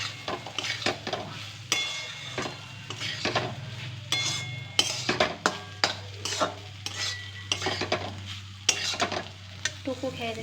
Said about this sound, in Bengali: ভাত দিয়ে ভালো করে নাড়িয়ে নেবো।